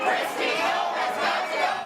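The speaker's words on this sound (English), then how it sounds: "protesters pressed their way to the main doors, making their message loud and clear" Hundreds of protesters in Minnesota shout together in a dense, continuous roar at the main doors of a building, loud and sustained with swelling waves of voices.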